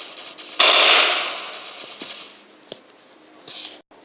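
A sudden loud burst of rapid gunfire in the shooter video game Standoff that fades over a second, followed by a few scattered sharp pops.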